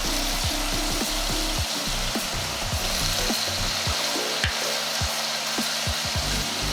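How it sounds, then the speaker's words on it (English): Meat searing and browning in a large, well-filled pan, a loud continuous sizzle with steady crackle and occasional low knocks, close and with no talking. "the sear has begun"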